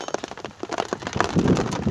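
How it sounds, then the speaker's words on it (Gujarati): Close patter of rain striking a surface, irregular crackling drops in quick succession, with a faint murmur underneath. "વરસાદ અત્યારે શરૂ જ છે."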